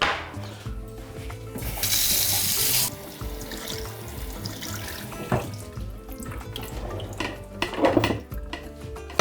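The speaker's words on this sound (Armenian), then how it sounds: "հարկավոր է այն լվանալ հոսող ջրի տակ" Tap water runs into a small pot as one cup of rice is rinsed, a steady splashing rush broken by a loud gush and bursts of swirling water and light clatter from the pot.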